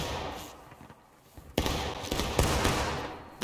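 Musket volley firing in the War of Rights video game, a sudden loud crackling burst of many shots together, followed by scattered further reports and a noisy battlefield wash.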